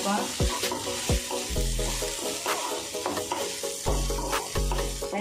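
Okra fries in a pan with chana dal and chili spice, a steady bright sizzle broken by repeated low thuds and clinks as the spatula stirs and scrapes the vegetables every second or so.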